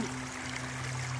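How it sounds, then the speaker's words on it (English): Creek water running steadily through a gold sluice box outdoors, a constant close rushing flow with a low steady hum underneath. "Running pretty good in this creek."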